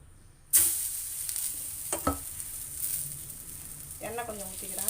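Ragi adai with drumstick leaves sizzles on a hot pan, a steady close frying hiss that starts abruptly with a clatter as the next adai goes on, with a few utensil knocks and brief speech-like sounds near the end.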